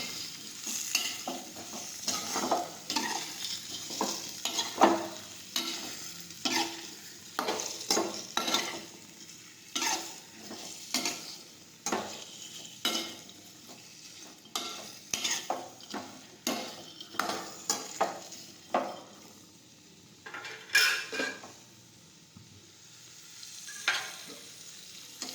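Spiny gourd (kantola) pieces sauté in a pan, with a soft sizzle beneath repeated scraping, clacking strokes of a spoon stirring at an irregular rhythm, each stir sharp and close.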